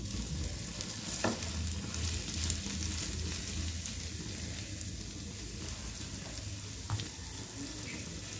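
Cabbage omelette batter sizzling and frying in white oil on a hot tawa, a steady dense crackle running throughout with a few brief louder pops, close and alone.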